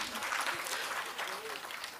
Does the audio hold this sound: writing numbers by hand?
no